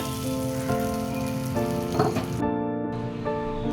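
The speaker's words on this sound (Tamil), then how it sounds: "அதுக்கு கடுகு, உளுத்தம்பருப்பு, கருவேப்பிலை தாளித்து கொட்டிட்டேன்" Mustard seeds, urad dal and curry leaves tempering in hot oil for a green moong adai and peanut chutney give a steady, close, crackling sizzle that runs unbroken, with no talking.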